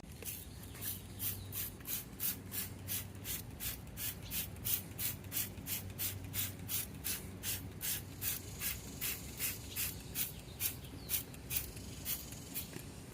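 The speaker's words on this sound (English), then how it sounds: "I've just been adding soap to this thing and scrubbing it down with this little scrub brush" A small scrub brush works over a junkyard find lathered with dish soap, giving steady rhythmic bristle strokes, close and fairly loud, repeating back and forth for the whole stretch with no talking.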